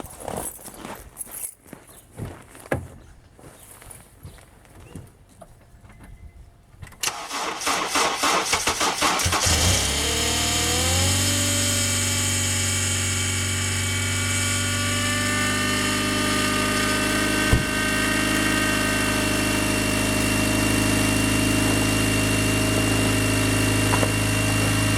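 A 318 engine cold-starting on a frigid morning after years without a battery: sputtering cranking attempts, then it catches and settles into a loud, steady, rumbling idle that continues to the end.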